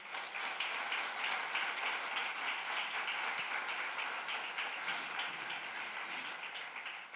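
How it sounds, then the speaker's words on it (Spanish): A church congregation applauds during a sermon by a pastor, dense sustained clapping from many hands filling the hall at steady loudness for several seconds with no talking over it. "Denle un aplauso al Señor."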